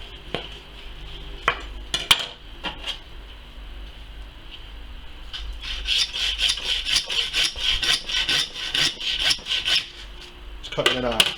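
A lamb joint with the bone left in is cut in half by a butcher, a few sharp knocks, then a run of rhythmic rasping, sawing strokes, close and fairly quiet with no talk.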